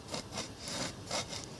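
A hand saw cuts through wood for a homemade spear in steady back-and-forth strokes, about six rasping passes in quick rhythm, close and clear with no voices.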